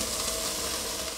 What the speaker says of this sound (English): Now I'm gonna add our aromatic vegetables.